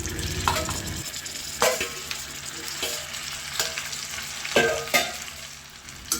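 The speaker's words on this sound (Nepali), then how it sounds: "यो बयरलाई चाहिँ तेलमा राखिसकेपछि मजाले एकपल्ट भुट्नुपर्ने हुन्छ" Bayar (jujube) fruit frying in hot oil with fennel seeds for a sweet-and-sour pickle, a continuous close sizzle with repeated spatula scrapes and clacks as it is stirred, no voices.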